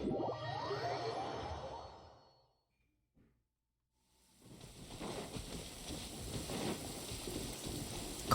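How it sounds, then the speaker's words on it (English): Steady hiss of rain in a video game fades to near silence for a couple of seconds, then returns as a dense patter of falling drops. "Why is it raining?"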